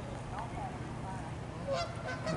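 Ducks calling at a pond in the Ronnie Van Zant Memorial Park in Lake Asbury, Florida, giving faint honking quacks at a distance over steady outdoor background noise.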